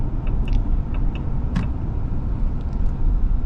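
A 540-horsepower Ram pickup truck accelerating, a steady low engine rumble heard from inside the quiet cabin, with no talk.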